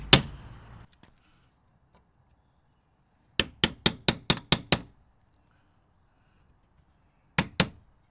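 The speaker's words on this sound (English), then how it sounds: "I'm using the small pin hammer." Small pin hammer tapping on the frame of a shed or workshop window being re-glazed: one sharp knock, then a quick run of six light taps, a pause, and two more near, crisp taps in a quiet room.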